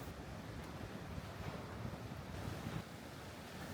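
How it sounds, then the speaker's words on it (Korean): Steady rush of East Sea (Sea of Japan) surf along a Korean coastal cliff walkway, with a constant wash of breaking waves, mixed with some wind noise, continuous and fairly close. "파도 소리를 음악 삼아 들으며 걸으니"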